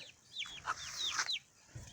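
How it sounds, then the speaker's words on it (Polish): Several short, squeaky chick calls overlap in a busy flurry, with a broody Silkie hen's soft clucking underneath, close by and fairly loud. "Kurki, silki z kwoką"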